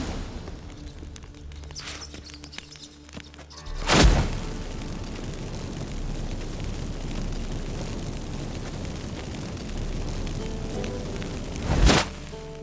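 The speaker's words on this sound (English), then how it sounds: "Get ready for some magic fireworks." Magic fireworks set off by burning incense in The Witcher 3, two sharp loud bangs several seconds apart, each a crackling burst rising out of a quiet ambient backdrop.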